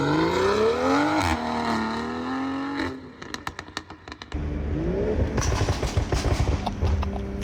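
BMW M340i fitted with an AliExpress valvetronic exhaust passes by, the engine rising and falling in pitch, then some crackling pops and a renewed loud roar as it accelerates away.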